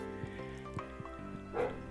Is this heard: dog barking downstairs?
yes